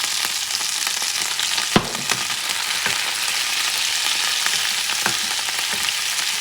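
Seafood fries in a pan with a loud, steady, close hiss, broken by a few sharp pops and crackles, with no talking.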